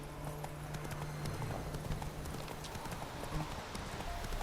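Roach the horse gallops in The Witcher 3, a quick, steady clip-clop of hooves running continuously with faint background game ambience.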